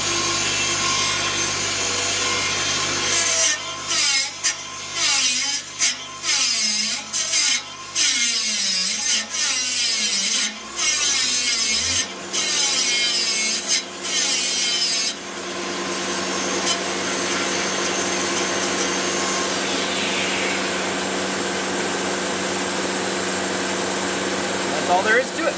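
A grinder sharpens the main blade of a Mobile Dimension sawmill, giving a continuous motor whine with rough grinding passes that change in pitch, then a steadier, denser roar in the second half.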